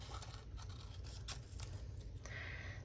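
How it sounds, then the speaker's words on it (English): Paper cut in half with scissors for creative journal pages, heard as faint, close snips and scratchy rustles over a low hum, with no talking. "So let's cut these in half."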